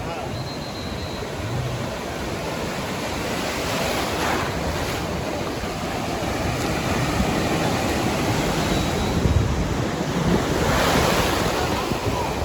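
High ocean waves break and roll at Sugandha beach in Cox's Bazar, a loud continuous surf roar that swells gradually, with heavy wind buffeting the microphone.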